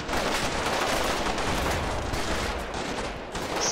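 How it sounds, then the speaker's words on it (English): Dense, continuous gunfire and overlapping volleys from the Combat Mission Shock Force 2 war game, a loud sustained fusillade of rifle and machine-gun shots filling the whole stretch with no pauses. "they're getting shot up from everywhere there"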